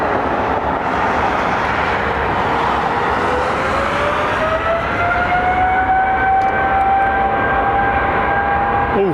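A jet airliner taking off into a tailwind at London Heathrow, a loud, sustained roar with a rising whine that climbs steadily in pitch as the engines power up.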